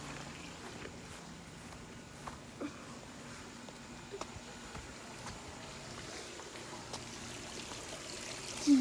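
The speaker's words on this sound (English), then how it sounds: "There's the waterfall." Steady broadband rushing of falling water, continuous and moderately distant, with a few faint knocks and rustles on top.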